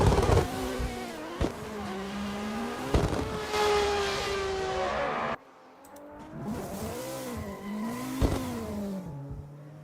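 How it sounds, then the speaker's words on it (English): Race cars revving and accelerating during practice laps at a street spec competition, engines rising and falling loudly in repeated passes, with a sudden drop to a quieter, more distant level partway through as further cars sweep by. "Cars were so loud."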